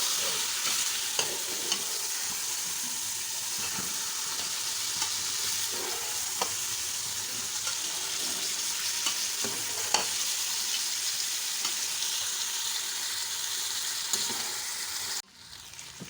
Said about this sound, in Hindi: 5 मिनट घी में मैं इसको फ्राई करूंगी